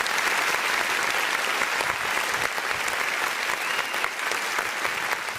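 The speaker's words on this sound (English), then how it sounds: "please join me in applauding our host for this evening" A large audience applauds a host at a Health Outreach Team event of the Archdiocese of Bombay, with dense, steady clapping filling the room at full strength from start to finish and no voices standing out.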